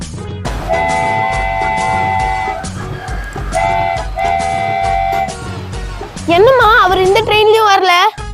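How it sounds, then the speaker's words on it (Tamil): A train horn blares in long sustained blasts, followed by a wavering whistle-like tone, with rumbling rail noise and some voices underneath. "அது ஒரு ட்ரெயின் வருது அதை பார்க்கலாம்"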